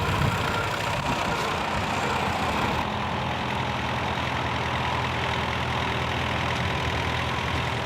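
A David Brown 1494 tractor engine runs steadily at close range, giving a continuous low rumble with a rough, knocking quality throughout; no voices are heard.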